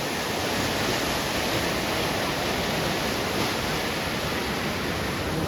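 A loud, unbroken roar of rushing floodwater in a river after unseasonal heavy rain fills the scene, close and constant, with no voices.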